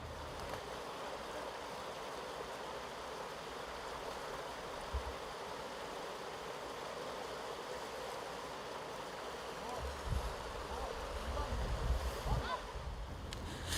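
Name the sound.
river current flowing at Lofoi falls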